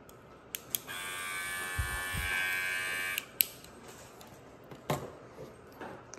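A wireless airbrush kit's small USB-charged pump hums steadily for about two seconds at a faint, buzzing level, bracketed by light clicks and handling taps.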